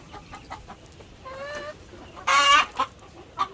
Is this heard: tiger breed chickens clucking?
yes